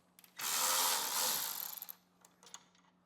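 A ratchet whirs steadily for about a second and a half, then trails off into a few separate clicks, removing 13 mm bolts from the exhaust of a 2023 Harley-Davidson Road Glide, close and fairly quiet.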